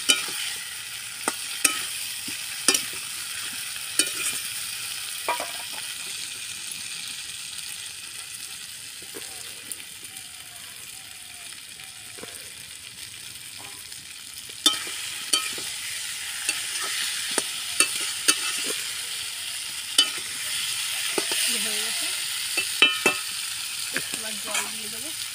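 Potatoes frying in spiced oil in a pan, stirred at intervals in a village kitchen, with a steady low sizzle and clinks of a spoon against the pan.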